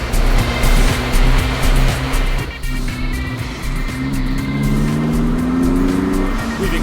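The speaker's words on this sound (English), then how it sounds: "The car is instantly more torquey and pulls strongly from almost anywhere in the rev range." A car with a reflashed ECU, a German model, accelerates hard on a test drive, its engine note loud and close, droning steadily and climbing in pitch as it pulls through the revs under road and wind noise.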